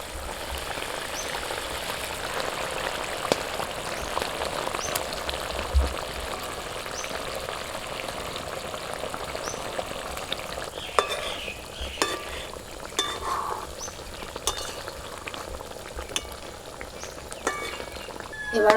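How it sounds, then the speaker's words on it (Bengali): Fried eggplant sizzles in a pan with spices, a steady close frying hiss joined by occasional clinks and scrapes of stirring. "এবার ভাজা বেগুনগুলো আমি দিয়ে দিচ্ছি।"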